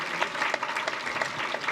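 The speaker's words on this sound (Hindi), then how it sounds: "इनके लिए जोरदार तालियों में कमी नहीं रहनी चाहिए" Audience applause at a government school results ceremony, brisk continuous clapping at moderate distance with individual claps popping out of the dense patter.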